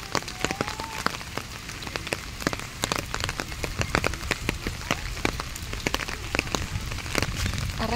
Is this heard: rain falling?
yes